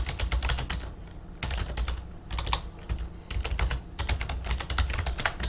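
Rapid keyboard typing on a computer in Garry's Mod, clattering keystrokes in quick irregular bursts with brief pauses, close and steady, with no talking.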